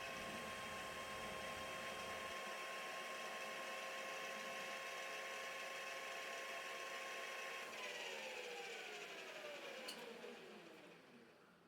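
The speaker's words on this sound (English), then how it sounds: "I'm running the lathe spindle at 1000 RPM for this operation." A metalworking lathe facing off the end of a bar with the spindle at 1000 RPM gives a steady high whine and cutting hiss, its pitch sliding downward near the end as the tone fades.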